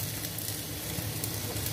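Onions, tomatoes and dried red chillies sizzle steadily in a pan for a Chettinad country-chicken curry, a constant close frying hiss with no talk.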